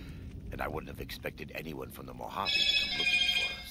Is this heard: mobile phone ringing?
yes